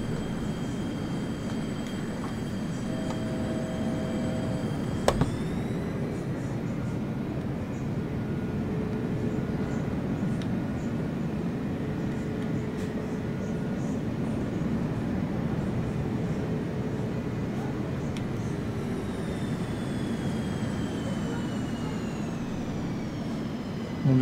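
Boeing 737 engine noise inside the Flyinside flight simulator game, a steady loud droning roar with high whine tones that shift in pitch, heard continuously with no talk.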